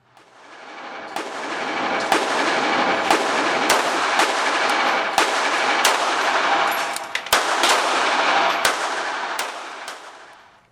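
A CZ75 SP-01 9mm pistol fires about a dozen sharp, loud shots at a brisk, fairly even pace, each crack standing out over a continuous outdoor noise bed.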